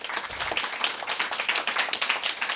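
Outdoor audience at a ribbon cutting for a new pavilion at a community farm claps steadily, a dense burst of applause from a group of people lasting a few seconds.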